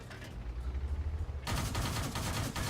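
Tank gunfire in World of Tanks, a rapid burst of repeated firing that breaks into a louder, denser barrage halfway through, with sharp cracks layered over a rumbling low end.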